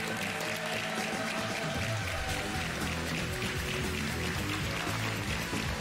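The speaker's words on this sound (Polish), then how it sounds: "Wielkie brawa dla was." Studio audience on a Polish game show breaks into dense, continuous applause that stays even and loud from start to finish, with no voices heard.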